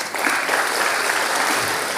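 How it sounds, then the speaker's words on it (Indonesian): An audience claps for Pak Budiarsa at an Indonesian public event, a continuous, even wash of applause that fills the whole two seconds, loud and close, with no speech on top. "tepuk tangan dong Pak Budiarsa."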